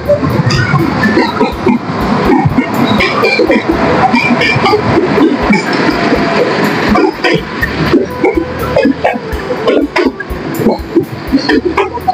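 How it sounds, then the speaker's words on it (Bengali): A train approaches near Rangpur with a loud, continuous rumble and clatter of wheels on rails, rising rattles and squeals throughout, close by and dense with faint voices mixed in. "দেখেন রেলগাড়ি আসতেছে"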